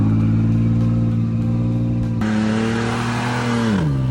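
A second-generation Toyota Tacoma engine with the exhaust cutouts open, a loud, close, raspy drone that climbs sharply as the throttle opens, holds at higher revs, then drops back down.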